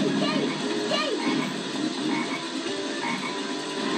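A frog croaks repeatedly in the Sonic Heroes video game, a dense raspy chorus of loud croaks filling the whole stretch over busy game sounds.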